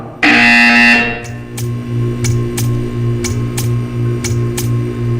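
A loud electronic buzzer blares for about a second in the video game Portal 2, followed by a steady hum with faint regular ticking clicks.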